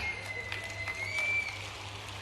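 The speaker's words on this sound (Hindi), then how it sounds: "जब ताली बजाओ तो दिल से बजाओ" Audience applause at a public event with Madhya Pradesh Chief Minister Mohan Yadav in Seoni, a steady, moderately loud patter of many hands clapping with no voices on top.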